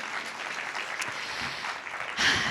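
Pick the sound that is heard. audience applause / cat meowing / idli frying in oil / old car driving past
audience applause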